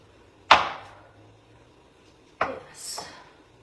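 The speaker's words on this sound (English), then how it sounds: "you carve a corned beef, you always want to go against the grain" A knife carves corned beef against the grain on a board, making two sharp, separate thuds about two seconds apart, each fading quickly into near quiet.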